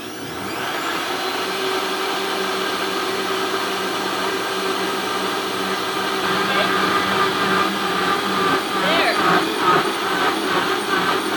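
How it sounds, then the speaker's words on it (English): A Vitamix blender running at medium speed, half full of cream churning into butter, a loud steady whirring roar that thickens and starts to pulse toward the end. "So I fill our Vitamix about half full. I turn it on to medium speed, and it should take about 30 seconds."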